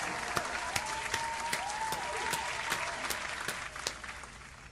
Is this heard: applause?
yes